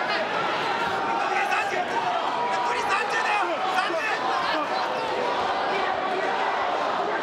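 A dense, loud roar from a boxing crowd cheering on Jesus Soto Karass in the closing seconds of his fight with Yoshihiro Kamegai, with voices and shouts blending into constant arena noise.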